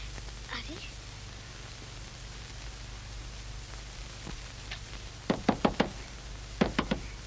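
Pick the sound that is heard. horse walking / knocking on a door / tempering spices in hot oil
knocking on a door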